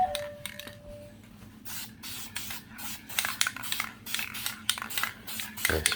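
An aerosol can of clear engine enamel sprays onto a 1996 GMC Yukon wheel in a run of short hissing bursts, close and sharp, after some brief clinks and rustling of setup.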